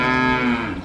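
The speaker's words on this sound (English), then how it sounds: "What the cow says." A cow moos once in a loud, close, sustained low call with strong harmonics that fades slightly toward the end, with no talking.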